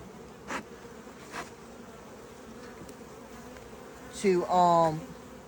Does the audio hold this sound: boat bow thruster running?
no